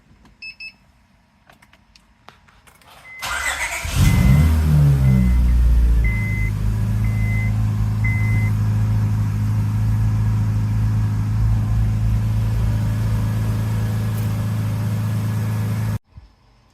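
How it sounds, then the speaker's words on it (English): 2003 Honda Accord with a new starter makes a cold start: a brief starter crank catches into a loud engine flare, then drops into a steady high idle hum that runs for about twelve seconds before it cuts off. "I figured I'd let you hear a cold start with it in here"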